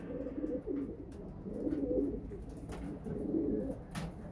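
Pigeons coo in soft, low, repeating rolls, several throaty phrases in a row, close by with faint background noise.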